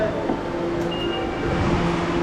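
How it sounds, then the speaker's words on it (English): A train pulls into a station in Akihabara, Tokyo, with a steady low rumble and faint metallic squeals and tones running throughout, heard close and continuous. "Get on this train, it just showed up."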